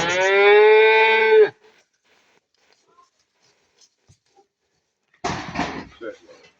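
Calves mooing at a livestock market: one long, loud, drawn-out moo, then a pause and a shorter rougher call a few seconds later, with no talk between the calls.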